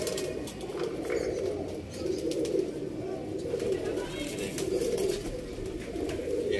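Pigeons in a loft keep up a steady low cooing in repeated rolling swells, close and fairly loud, with light rustling over the top.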